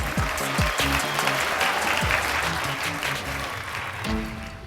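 An audience claps and cheers steadily in a grand round of applause for a woman arriving at a graduation party, with a voice speaking over it and music in the background.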